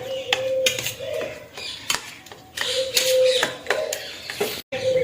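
A metal spoon beating raw mango pulp in a bowl, giving repeated quick clinks and scrapes in uneven bursts, close and fairly loud with short pauses between strokes.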